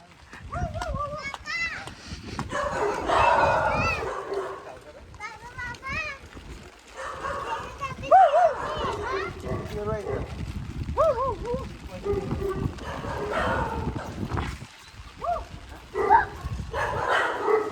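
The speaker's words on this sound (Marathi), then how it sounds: "तुम्हाला बोललं मी कुत्रे आहेत सगळे. भाऊ भाऊ भाऊ भाऊ भाऊ बघा कसे ओरडतात" Dogs bark repeatedly at a farmhouse compound, their yelps scattered through the clip and mixed with children's voices and steady nearby talking.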